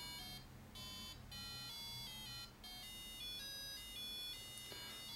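Super Mario Bros. melody beeped out by an ARM Cortex-M3 development board at its loudest setting, a bright chain of electronic square-wave notes in quick rhythm with short pauses, close and steady, no talk.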